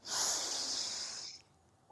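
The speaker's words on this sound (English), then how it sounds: "when you exhale, open your mouth really wide, stick out your tongue and go" A single forceful, breathy yoga lion's-breath exhale with mouth wide and tongue out rushes out for about a second, loud and airy up close, then cuts off into near silence.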